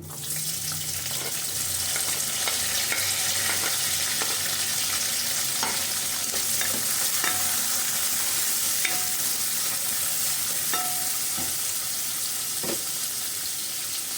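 Onions frying in hot oil with cinnamon, cloves and bay leaf for a methi chicken gravy, a steady hissing sizzle throughout with intermittent stirring scrapes and light spoon clicks, close and even.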